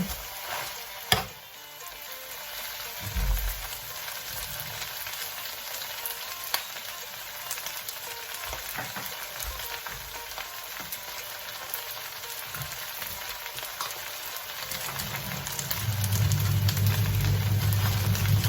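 Rice noodles with wild garlic leaves and flowers stir-fried in a pan, a continuous sizzle and crackle under occasional scrapes of stirring, growing louder and fuller toward the end.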